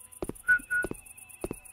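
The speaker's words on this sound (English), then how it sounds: "Like whistles?" A pair of short, clear whistle blasts sounds in a video game, set between sharp knocking hits, with a faint steady tone underneath.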